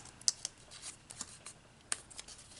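Paper section of a Memorydex rolodex-style book being folded, soft close paper creasing and crisp flicks in irregular bursts, with no talking.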